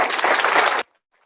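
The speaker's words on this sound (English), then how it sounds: "How about another round of applause?" A short burst of dense applause from an audience at a fall 2022 medallion ceremony, loud and steady, then cut off abruptly into near silence.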